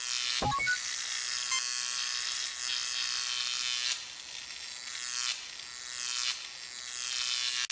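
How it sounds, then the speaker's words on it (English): A molecular saw in the Star Trek 25th Anniversary game gives a steady, bright electric buzz, like a shaver, that runs the whole time with a few short swells and dips. It sounds close and even, and no one speaks. "A molecular saw, the 23rd century equivalent of a hacksaw."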